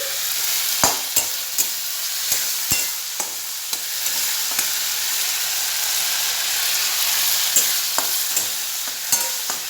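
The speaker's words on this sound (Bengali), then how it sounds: "আদা টমেটো পেস্ট দিয়ে চিংড়ি মাছগুলো সঙ্গে কষাবো" Prawns frying in a pan with ginger tomato paste, a continuous close sizzle with repeated sharp clicks and scrapes of a spatula stirring at irregular intervals.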